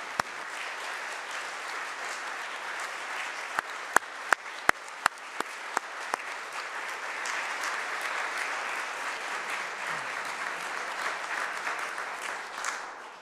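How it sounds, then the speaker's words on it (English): Applause fills a state Senate chamber during a floor tribute, a broad steady wash of many hands with a few sharper claps near the start, moderately distant and sustained throughout. "Let us have a round of applause, not in condolences, but in the memory of a wonderful life and a wonderful lady"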